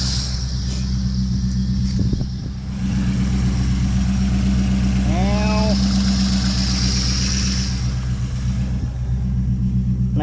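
A Corvette engine idles steadily with a continuous low rumble, close and loud, with a brief dip in level partway through and a short higher whine above the drone.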